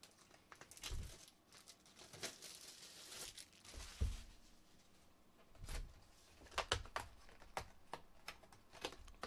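A 2023 Topps Chrome hobby card pack is slit open at close range, with scattered sharp cuts, crinkling foil wrapper and quick rustling handling sounds at an uneven rhythm, faint overall and with no talking.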